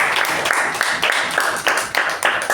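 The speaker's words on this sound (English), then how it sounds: "Let's give them a round of applause" A room of people applauds a debut speaker and evaluator at a Toastmasters meeting, with steady, moderately loud clapping that runs without a break and carries no talk.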